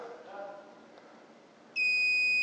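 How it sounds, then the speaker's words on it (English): A remote-controlled gate motor lets out a steady, loud electronic beep after its learn button is pressed, cutting in sharply after a moment of quiet with faint talk. "Now it beeps."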